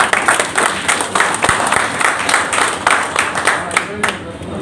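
Meeting audience of a hotel and allied industries welfare association in Guntur clapping together, a loud, dense and sustained round of applause close by, with voices mixed in underneath.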